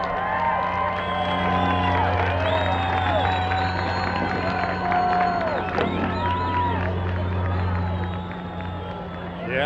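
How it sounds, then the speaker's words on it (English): A large outdoor crowd at the Albuquerque Balloon Fiesta night balloon glow cheers and whoops continuously, with shouts and whistles rising over a steady roar. "listen to the crowd"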